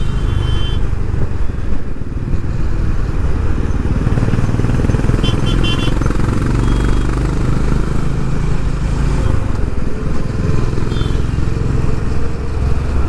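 Honda H'ness CB350 motorcycle engine droning steadily while riding through traffic, with loud continuous low-frequency rumble and wind noise throughout.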